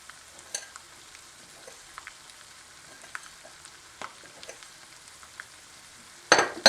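Tomato paste sauce with chili flakes and salt fries in a pan, a faint low sizzle with scattered stirring scrapes and a louder clattering burst near the end, no talking.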